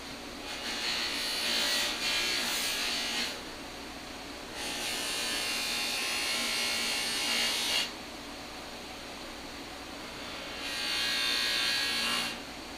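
An electric polisher works coarse rubbing compound on trim of a 1966 Ford Galaxie 500 convertible, whirring in three long passes separated by quieter pauses, each pass a steady high buzz.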